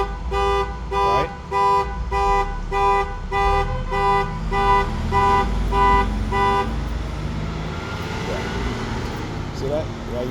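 Car horn honks in a regular rhythmic series of evenly spaced blasts, alternating with a car alarm, over a low rumble of traffic and vehicle engines. The pattern stops about two-thirds of the way through.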